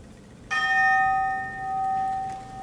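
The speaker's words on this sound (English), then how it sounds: "The bell invites me." A single bell struck once during a high school stage performance of Macbeth, ringing out with a clear bright onset and then a long resonant decay that lingers for about two seconds, with no talking.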